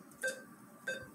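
Two short electronic beeps from neurofeedback software, about half a second apart, fairly quiet over a soft background hum.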